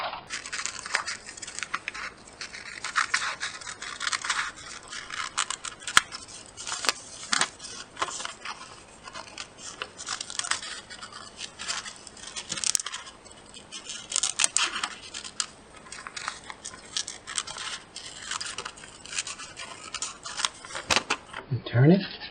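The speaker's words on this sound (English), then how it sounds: "So you go from the edge and follow the line and cut out your letter B." Scissors cut a letter B out of contact paper for a butterfly suncatcher craft, a close, continuous run of crisp snipping and paper crinkling that lasts about twenty seconds with no voice heard.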